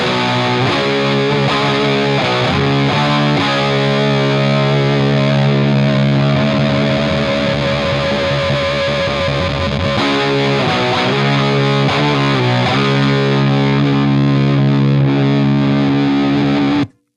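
Heavily overdriven electric guitar through a Monkey Riot Backseat Driver overdrive pedal with voice turned down, thick, saturated gain, playing sustained chords broken by a few choppy rhythmic passages. Loud and close, with no talking.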